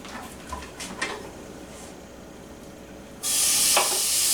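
Frozen bacon hits a hot skillet and a loud, steady sizzle bursts in suddenly, following quieter kitchen clatter and faint handling noises.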